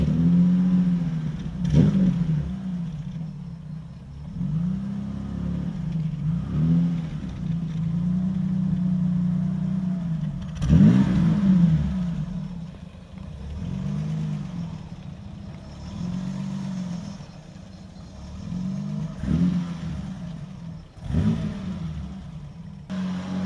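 Classic BMW 3.0 CS starting up and driving around a block, its mid-pitched engine rumbling and revving in repeated swells, with idle stretches between bursts of acceleration.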